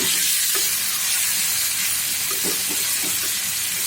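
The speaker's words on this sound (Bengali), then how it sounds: "দিয়ে নেবো হালকা ভাজা ভাজা হবে" Prawns frying in a pan for a Bengali prawn bhuna, a constant loud hiss and sizzle with a few soft taps and clinks of utensils, no talking.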